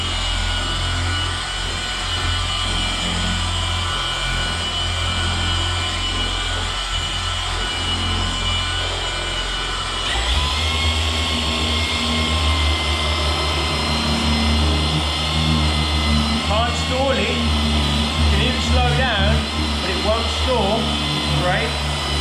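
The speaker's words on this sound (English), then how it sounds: "I'm just going to do a little bit of polishing so you can hear it" A Milwaukee M18 Fuel cordless polisher whirs steadily as it works the hard clear coat of a Mercedes. The motor tone shifts partway through, and the close, continuous whine carries on throughout.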